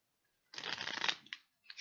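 A plastic deck of playing cards being shuffled and handled, a dense riffling burst of about three-quarters of a second followed by two short, quieter snaps of card handling, close and alone with no talk.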